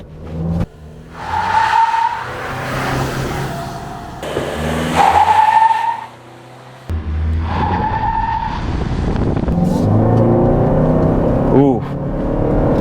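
Toyota Grand Highlander XLE Hybrid AWD launches hard from a stop on the road, tires squealing and engine surging through rising gear pulls, loud and close, with voices talking over it.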